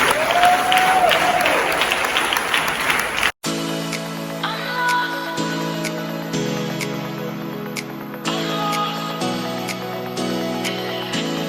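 A church congregation at a thanksgiving service in Haiti applauds and cheers loudly, dense close clapping filling the first few seconds before it cuts abruptly to keyboard-led music.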